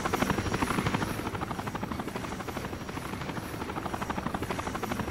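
A helicopter in the video game Rainbow Six Vegas 2 thumps steadily with a fast, even rotor chop, loud and continuous throughout, with no talk over it.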